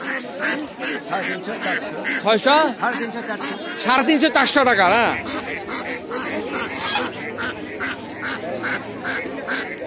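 Native domestic ducks quack and honk in a crowded market, with a dense burst of rapid calls in the middle, close by and mixed under steady conversation between a buyer and seller.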